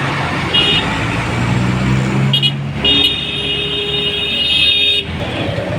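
A Golden Valley bus bound for Davao City rolls past in street traffic, its engine rumbling close by, with a horn-like tone sounding over the road noise.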